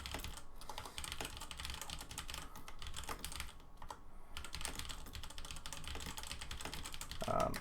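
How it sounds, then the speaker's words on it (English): Rapid typing on a computer keyboard clatters steadily with dense, fast key clicks, close and fairly quiet, with no talking. "I'm just typing out the homework."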